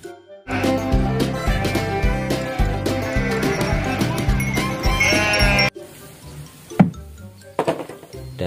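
Sheep bleating in Jurassic World Evolution 2 against a bed of game music, one loud clear bleat standing out after the music drops away, with a few quieter cries around it.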